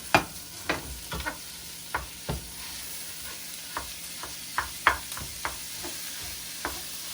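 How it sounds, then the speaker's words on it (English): Ground meat hitting a hot pan for oven-baked nachos, with soft sizzling and a series of sharp scraping, stirring clatters spread through the clip, close and moderately quiet, no talking. "And then I'm going to get my meat going. Nice hot pan."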